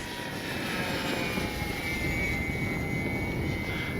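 An FMS PC-21 Pilatus RC model airplane flies past at full speed, giving a steady, loud motor drone with a high whine that shifts slowly in pitch and continues alone without voices.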